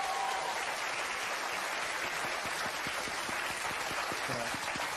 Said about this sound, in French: C'est applaudi.